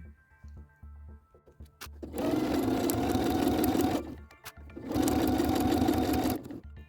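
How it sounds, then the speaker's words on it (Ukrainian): A sewing machine runs two bursts of stitching on a 4 mm decorative seam for a winter headscarf, each a loud steady whirring hum lasting about two seconds, separated by a brief pause with handling noise. "А для оздоблювального стібка я зроблю 4 мм строчку."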